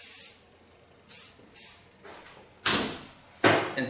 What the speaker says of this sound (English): And on top of that, I lay a little bit hairspray.